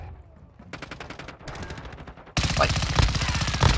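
Akimbo Glock 18 machine pistols firing in Call of Duty Search and Destroy, rapid full-auto bursts close up, growing louder and denser in the second half, with a voice talking over the shots.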